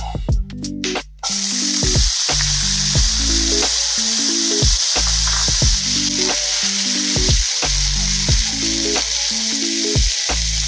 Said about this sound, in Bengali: হয়ে গেছে পেঁয়াজটা ভাজা